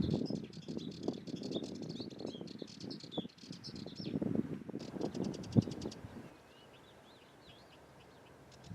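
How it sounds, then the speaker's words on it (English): A Sardinian warbler in Algarve scrubland gives rapid, rattling chattering bursts from a shrub, close and clear over wind and rustling, followed by quieter, thinner calls. "Sardinian warblers deliver a fast chattering call from the tops of shrubs and bushes."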